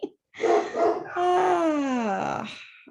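Dogs barking in a couple of quick yelps, then breaking into a long wavering howl that slides downward, close and loud in a home setting, with no talk over it.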